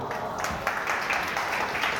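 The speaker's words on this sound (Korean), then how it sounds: "박수 부탁드립니다" Audience clapping at a Korean book talk on Kierkegaard, a soft, even patter of many hands from a small room crowd, fairly faint and steady for a couple of seconds.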